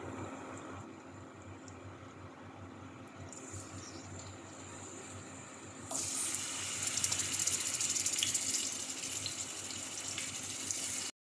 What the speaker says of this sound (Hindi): हम चिकन को 3 से 4 मिनट हाई फ्लेम पर फ्राई करेंगे।